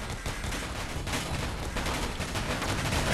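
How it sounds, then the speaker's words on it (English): Gatling cannons firing from ships in the Space Engineers video game: dense, continuous rattling bursts of rapid fire that fill the whole stretch at moderate level, with no voice over it. "Their Gatling cannons are chattering away"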